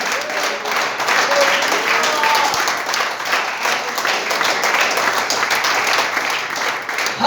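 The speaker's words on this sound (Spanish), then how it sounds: "Denle un aplauso al que vive." A church congregation applauding together, a dense, loud, continuous wash of clapping that carries on without a break.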